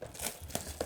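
A Panini Prizm FIFA World Cup 2026 trading card pack wrapper is torn and crinkled open, a brief close burst of foil ripping and crackling.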